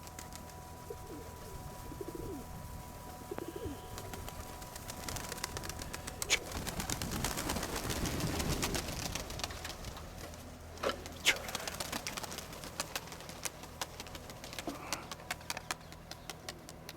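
Pigeons coo softly in short rounded phrases outdoors, with a few wing flaps and bird calls over steady low background noise, no voices.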